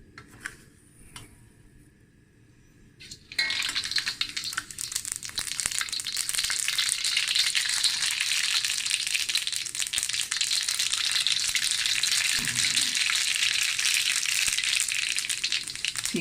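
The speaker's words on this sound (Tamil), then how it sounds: "எண்ணெய் சூடு ஏறினோடனே கடுகு போடுவோம்" After a quiet start with a few light taps, mustard seeds hit hot oil for lemon rice and a loud, steady crackling sizzle takes over and keeps going to the end, close and unbroken.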